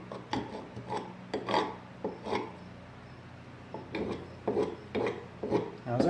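A rasp files a wooden axe handle being fitted to a BSA Scout axe, in close, rhythmic rough scraping strokes with short pauses between them.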